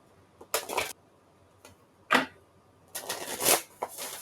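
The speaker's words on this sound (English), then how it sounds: "we're going to shuffle in front of you today of your oracle card" Oracle cards are riffled in a few quick bursts, crisp papery flutters separated by short pauses, close and clear with no talking.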